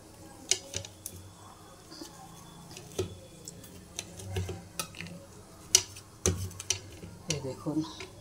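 A knife cuts through a noodle mughlai paratha, making scattered sharp ticks and taps against the board, some close and loud and others soft. Someone talks quietly in between the cuts.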